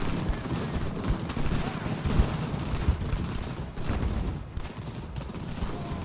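Gunfire from troops in Ultimate General: Revolution, a Revolutionary War battle game: dense, distant musket and cannon fire rolls on steadily over a low battlefield rumble, with someone talking over it.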